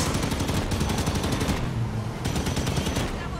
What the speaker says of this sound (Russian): Берегитесь выстрелов